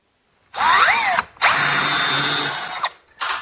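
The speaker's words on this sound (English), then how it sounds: "And we'll drill those holes out." A power drill whirs in two bursts while drilling holes to mount an overhead garage storage rack, the first revving up and down in pitch, the second a longer steady grind, then starts again briefly.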